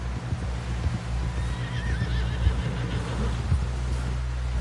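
A horse in the video game Red Dead Redemption 2 whinnies with a wavering neigh over a steady low rumble and the soft clip-clop of hooves, fairly loud and continuous.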